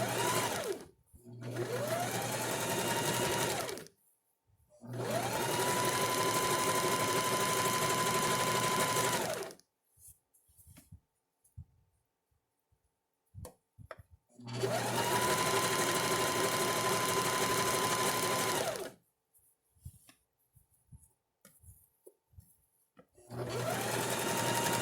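While a Hello Kitty nursing top is sewn, a sewing machine runs in long steady bursts of loud humming whir, starting and stopping several times with quiet gaps between runs.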